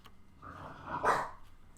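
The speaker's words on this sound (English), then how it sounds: "That's my dog coughing." A pet dog gives a short, husky cough-like bark, a rough burst peaking midway, moderately close but quiet in a calm indoor room.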